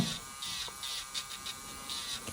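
An electric nail file buzzes in short bursts during a dry manicure, its high whine rising and dipping as it touches and lifts off the nails, close and fairly quiet.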